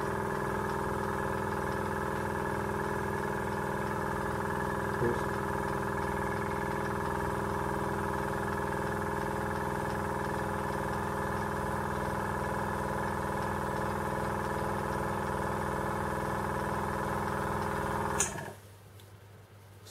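A Fengda AS-186 airbrush compressor runs steadily while filling its tank, giving a close, even mechanical hum with a fast regular pulse before cutting off abruptly near the end.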